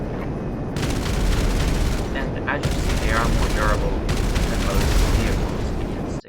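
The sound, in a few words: explosive cannon fire in a video game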